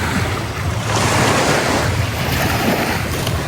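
Steady surf washes in continuously, a broad roaring rush of seaside waves with some wind buffeting the microphone.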